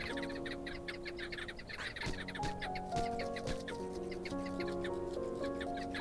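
Birds cluck and chirp in the indie video game Blueberry Garden, a run of close, pitched fowl-like calls layered over a soft musical background.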